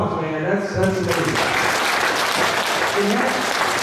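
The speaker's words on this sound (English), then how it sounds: "A round of applause, man." A crowd at an independent professional wrestling event breaks into applause, a dense, steady clapping that fills the room while someone speaks over it at the start.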